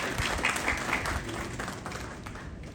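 Steady applause from a conference audience, a dense wash of many hands clapping at an even level for a few seconds.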